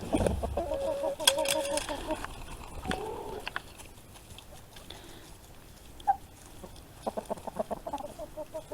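A Barred Rock rooster on a farm gives soft, scattered clucks and short calls nearby, with other fowl noises and faint background sounds between them.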